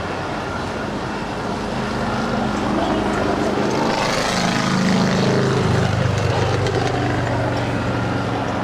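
An American airliner departing runway 25 right at Los Angeles airport gives a loud, continuous engine roar that swells midway as it passes nearby, with a shifting pitch as it moves off.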